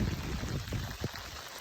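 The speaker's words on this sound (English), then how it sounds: "Yeah, we're getting rained on." Rain pours down during a bass fishing tournament on Lake Havasu, a dense hissing patter heard close up for a short moment, with faint voices underneath.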